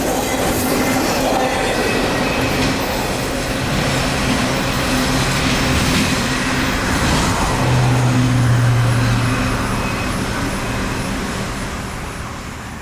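A freight train with auto rack cars rolls past on the Vitis subdivision in Florida, a loud steady rumble with rhythmic clickety-clack of wheels and a brief low horn-like tone midway, fading slightly at the end.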